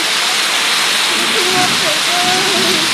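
Heavy rain pours steadily in a dense, constant roar onto a repair shop, with faint voices buried beneath the downpour.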